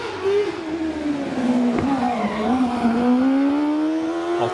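A two-wheel-drive, rear-engine silver kit car climbs the hill at Prescott, its engine holding a loud, rising drone with gear changes and a brief tyre squeal as it passes close by.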